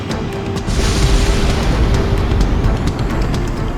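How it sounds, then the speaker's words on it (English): A deep, rumbling boom rolls on continuously, heavy low-end noise with a few sharp crackles on top, a big fortress cannon blast echoing in the video game Ace Combat X. "Cannon firing!"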